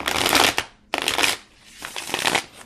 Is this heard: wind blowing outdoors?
no